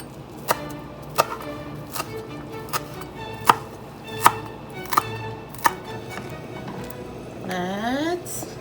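A knife chops through rolled layers of tomato-soup vegetables on a cutting board, giving about nine sharp, evenly spaced cuts close up, followed by a brief rising scrape at the end.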